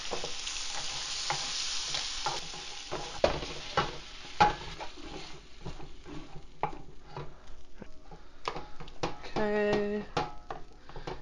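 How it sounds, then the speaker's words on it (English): Cooked pasta, shrimp and zucchini stirred together with creme fraiche and lemon juice for Calabrian shrimp, the spoon scraping and clinking against the pan in repeated close strokes over a soft hiss that fades away. "cooked pasta, cooked shrimp and zucchini, creme fraiche, the juice of 2 lemon wedges, stir to combine"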